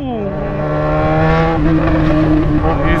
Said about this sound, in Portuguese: Escape estralando.